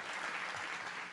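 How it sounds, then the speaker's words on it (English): An audience at a design talk applauds steadily, a soft, even patter of clapping that stays fairly quiet throughout the short moment. "Can we get one round of applause for Todd?"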